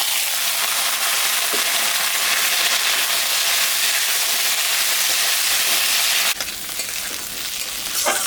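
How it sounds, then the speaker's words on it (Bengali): Okra, papaya and squash sizzle steadily in a hot pan with bay leaves and green chillies for a fish curry; a dense, close crackle runs throughout and grows brighter and harsher near the end. "সবজিটা ভাজা ভাজা হয়ে গেছে,"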